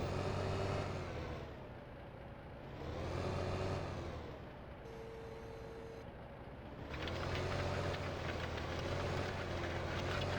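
Tractor engine in a farming video game, a steady low drone that swells and eases in waves, briefly dropping to a quieter idle with a faint whine before returning to a fuller rumble.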